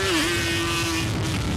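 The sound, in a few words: engines revving on sand dunes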